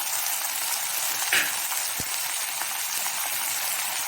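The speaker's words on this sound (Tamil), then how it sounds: "ஏற்கனவே வேக வச்சதுனால இது இந்த மாதிரி பரப்பி வேக வச்சுக்கலாம்." Pre-boiled pumpkin pieces for pusanikkai kootu cook spread out in a pan, giving a constant even sizzle with a soft clatter partway through, heard alone and close.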